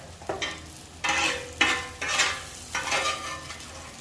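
Roasted peppers, onions and butter sizzle in a pan for Wisconsin-style butter burgers, with surging frying crackles as the food is stirred, close and fairly loud.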